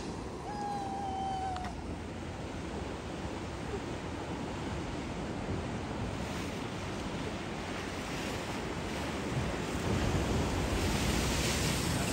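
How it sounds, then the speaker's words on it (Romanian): Sea waves break and wash over a pebble beach at Calheta, a continuous roar of surf mixed with gusty wind buffeting the microphone, swelling slightly louder near the end. "O să spar valurile, ce frumos să vede"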